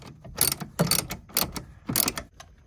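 A hand ratchet backs out a 7/16 bolt near a car's firewall while a clutch pedal bracket is being fitted, giving several close bursts of quick clicking with short pauses between them.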